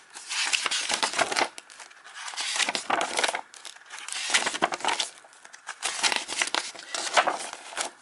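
Paper pages of a tarot journal being turned and handled, several soft crinkling, rustling bursts in an irregular rhythm, close and fairly quiet, with no talking.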